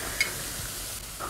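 Blended ingredients sauté in a hot pan, a quiet steady sizzle with a light stir and a faint clink near the start.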